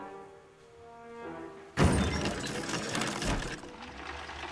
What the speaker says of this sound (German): Jetzt schießt er in die Luft und alles explodiert.